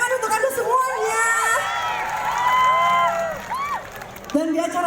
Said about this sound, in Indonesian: Tepuk tangan untuk Anda semuanya.